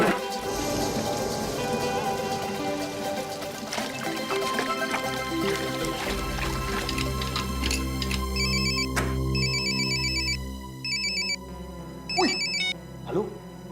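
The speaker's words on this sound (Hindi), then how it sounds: "हाँ पंकज, किडनैपर्स का फोन आया दोबारा?" A telephone rings in a tense crime-drama scene, its repeated electronic ring tone sounding in bursts over a steady background score, with no voices in between.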